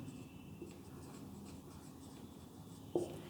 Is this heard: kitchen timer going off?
no